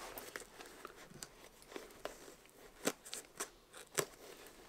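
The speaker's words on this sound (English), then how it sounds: "I use scissors on these shoes" Scissors snip through stiff skate shoe material in a series of crisp, close cuts, several sharp clicks spaced irregularly, with no talking.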